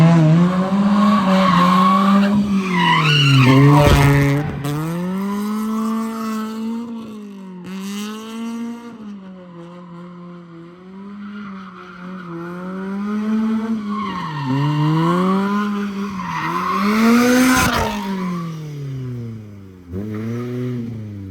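A 400-whp turbocharged gold drift car slides continuously with loud, wavering tire squeal over a high-revving engine, the pitch rising and falling through repeated drift transitions, close and sustained.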